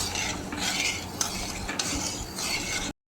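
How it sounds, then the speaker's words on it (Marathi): A spoon scrapes and stirs through ragda mixed with ginger-garlic paste in a pot, giving repeated close gritty swishes with a couple of sharp metallic knocks. "सगळं घालून हे आपण सगळं मिक्स करायचं"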